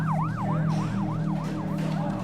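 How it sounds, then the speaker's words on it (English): An ambulance siren passing by, a loud, fast, repeating yelp that rises and falls about three times a second over a steady low traffic rumble, heard alone without voices. "An ambulance drove by."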